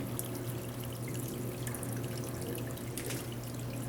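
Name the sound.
water trickling from PVC spouts into garden beds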